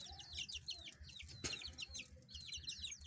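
Chickens clucking and chirping in rapid, overlapping bursts nearby, with a single sharp knock partway through and a faint low hum underneath.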